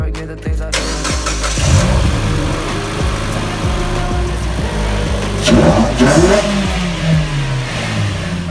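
A Mitsubishi Lancer engine cranks and catches after new spark plugs go in, then revs up and settles into a steady, loud, close idle with several throttle blips; faint voices are heard at times underneath.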